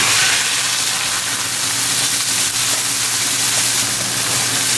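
Onions sizzle loudly and steadily in very hot oil in a pan over a high gas flame, with ginger-garlic paste. The hiss stays dense and continuous and is heard alone, with no talk.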